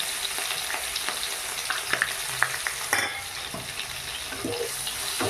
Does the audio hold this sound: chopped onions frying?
yes